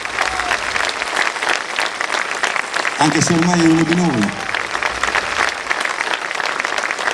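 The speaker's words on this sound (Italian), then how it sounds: "quando arrivano di fuori bisogna fargli un applauso caloroso" Warm audience applause at a live concert stage event, steady dense clapping throughout with someone speaking over it briefly in the middle.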